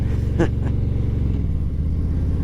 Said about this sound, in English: I got a motorcycle instead.